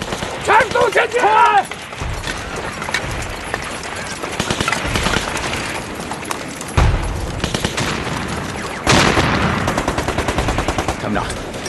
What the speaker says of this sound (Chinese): 枪声，战斗没有结束，陈大兰还跟鬼子拼呢！